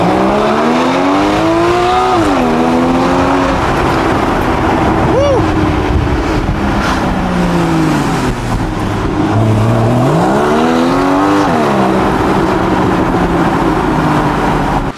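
A car engine revs loudly and continuously, its pitch sweeping up and down several times, close by.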